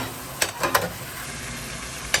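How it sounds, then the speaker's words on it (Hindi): Onions frying in olive oil in a pan over high heat give a steady, faint sizzle, with a few soft stirring scrapes and clinks close by and no one talking. "1 कप ऑलिव ऑयल डालें पैन में और इसमें प्याज डाल के इसको 5 मिनट तक तेज़ आंच पे फ्राई करें"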